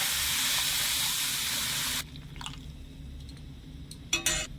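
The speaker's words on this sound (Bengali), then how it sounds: "দিয়ে দিচ্ছি দেড় কাপ মতন লিকুইড দুধ" Liquid milk poured into roasted semolina gives a steady broadband rush for about two seconds, then stops, leaving faint pan noise and a couple of short splashy bursts near the end.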